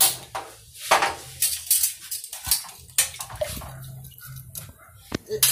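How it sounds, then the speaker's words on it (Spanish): A cup of water poured into a cooking pot on a stove, a short splashing gush with clinks of the cup against metal, close and moderately loud, with no talk over it. "Le vamos a echar esta taza de agua."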